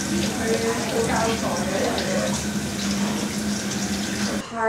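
Peeled food being washed under a running kitchen tap, with a continuous loud rush of water splashing for several seconds before it briefly drops near the end.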